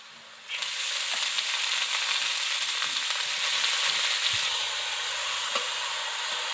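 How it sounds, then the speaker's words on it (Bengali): Leafy greens with onion and chili frying in a pan for a multi-green saag bhaja, a loud steady sizzle that starts abruptly and continues, with occasional scrape and clink of a spatula stirring, close by. "পেঁয়াজ ও লঙ্কার সঙ্গে শাকটাকে ভালো করে মিশিয়ে দিচ্ছি"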